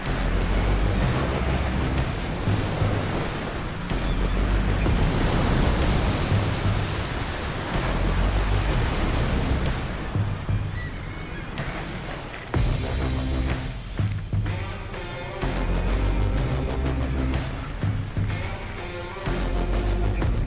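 Ocean waves roll and crash below Icelandic sea cliffs in winter, a continuous loud roar of surf with surging swells and no voices.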